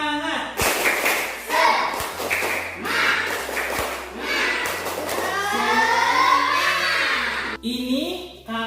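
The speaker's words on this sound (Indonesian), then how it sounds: "Kita tepuk semangat dulu" A group at a cocoa-grafting training session performs a rhythmic 'tepuk semangat' clapping chant, bursts of claps and thumps in a patterned beat, mixed with voices chanting and a steady low hum underneath.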